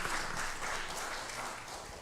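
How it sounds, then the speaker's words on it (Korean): A church congregation at a Sunday worship service applauds in welcome, giving steady, moderately loud clapping throughout. "박수로 우리 환영합니다."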